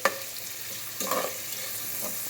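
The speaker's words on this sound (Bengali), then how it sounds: "আমি রান্না করতেছে ছুটকি দিয়ে বেগুন" Shutki dried fish and eggplant frying in a pan, a steady sizzle with a few clattering stirs of the spoon, close and moderately loud, no voices.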